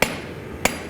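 A hand hammer strikes a knife blade being forged without power tools, giving two sharp metallic blows about half a second apart, close and loud.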